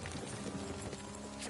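Horse hooves clip-clop steadily during riding in the video game Kingdom Come: Deliverance, a continuous rhythmic patter under ambient game noise.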